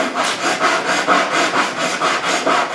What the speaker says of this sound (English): The final shape is done with some rasps.